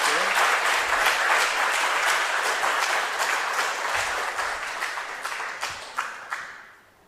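A church audience claps in a dense burst of applause that holds steady, then thins into scattered claps and fades out near the end.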